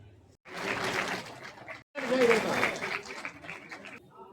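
Crowd clapping at a district health office farewell ceremony in Azamgarh, arriving in two bursts separated by short pauses, mixed with a loud voice over a public address system.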